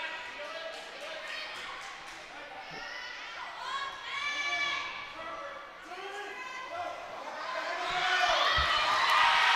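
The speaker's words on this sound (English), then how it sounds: "You hear chants of Aubrey being cheered on from the Williamstown crowd" A Williamstown crowd at a girls' high school wrestling match chants and cheers for a wrestler, with rhythmic, sing-song voices rising and falling in waves under a nearby commentator's talk and louder cheering toward the end.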